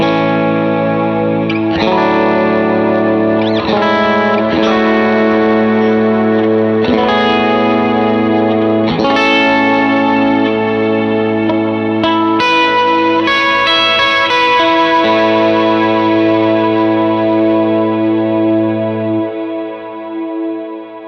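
Electric guitar played through a Strymon BigSky reverb pedal: several struck chords swell into a dense, shimmering wash, then a long reverb tail that slowly fades out alone.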